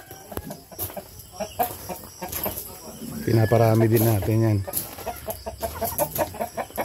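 Farm-raised breeder chickens cluck and call nearby, with one longer loud call standing out midway while someone talks over the flock.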